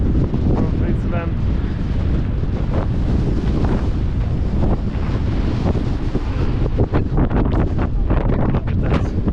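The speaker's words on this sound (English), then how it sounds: "Look at that beastie wind." Strong wind roars steadily across the microphone at Jungfraujoch, Switzerland, a loud continuous rumble with gusty buffeting, while a voice talks faintly beneath it.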